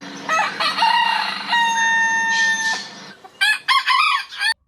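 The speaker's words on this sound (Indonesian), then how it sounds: "wow, ada ayam jantan." A rooster crowing loudly and close, one long drawn-out call with steady tones, then a short break and a choppy burst of clucking calls.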